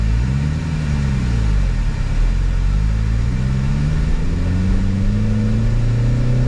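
Subaru Sambar KS4 kei truck driving with the air conditioning running, a loud steady engine drone inside the cab with the pitch rising and falling through gear changes.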